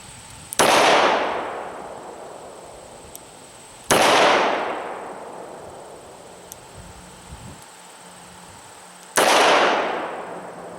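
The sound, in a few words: S&W 340 SC revolver firing +P rounds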